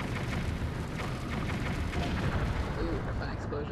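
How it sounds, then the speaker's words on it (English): Rumbling, continuous explosions from the video game Twilight Princess fill the whole stretch, a dense roar with bursts, and a voice talks over it. "Ooh, fun explosions."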